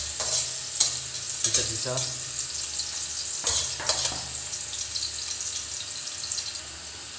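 Garlic sizzles and crackles in a hot pan while a utensil stirs and scrapes intermittently; a brief word is spoken partway through.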